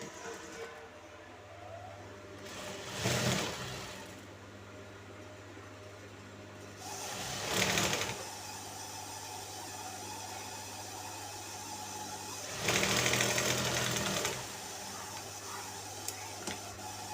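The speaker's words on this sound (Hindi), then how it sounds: "फिर यहाँ से सीधी सिलाई लगाएंगे।" A sewing machine runs straight stitches along a plain salwar seam in three separate bursts, each a few seconds long, with steady low room hum between them. There is no speech.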